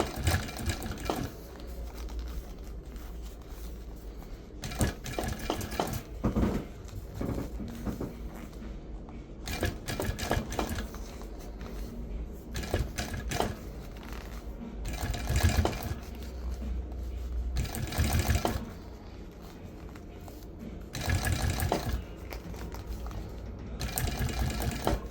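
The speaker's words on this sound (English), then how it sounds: "make sure you're paying attention, putting a finger underneath there and making sure everything feels flat and the orientation it needs to before it goes down into" An upholstery sewing machine stitching a boat seat cover: bursts of rapid mechanical chatter, close and steady, starting and stopping repeatedly across the whole stretch with short pauses and handling noises between runs, without talk.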